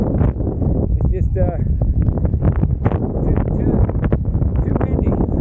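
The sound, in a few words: strong wind blowing on microphone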